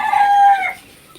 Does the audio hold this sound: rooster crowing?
yes